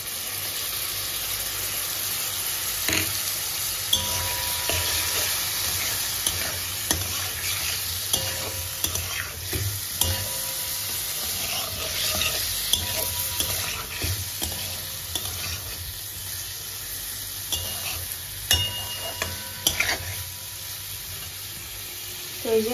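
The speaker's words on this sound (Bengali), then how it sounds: "এবার আমি পোস্ত বাটাটা দিয়ে দেব।" Potatoes fry in poppy seed paste with a steady low sizzle while a utensil scrapes and stirs the pan in frequent knocks and clatters, close and continuous under faint background noise.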